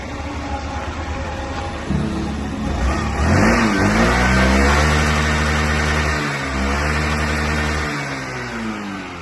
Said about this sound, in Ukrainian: Скутер працює ідеально, без всяких питань.